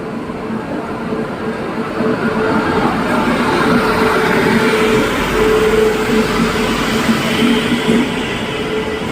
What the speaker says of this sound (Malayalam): നമ്മുടെ ട്രെയിൻ നമ്മുടെ പ്ലാറ്റ്ഫോമിലേക്ക് നാലാമത്തെ പ്ലാറ്റ്ഫോമിലേക്ക് ഇങ്ങനെ വന്നുകൊണ്ട്